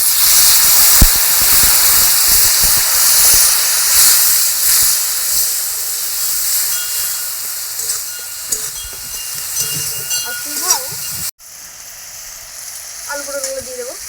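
Water poured into a frying spice masala makes a loud, continuous steam hiss that fades somewhat before cutting off abruptly. A few faint squeaky tones follow.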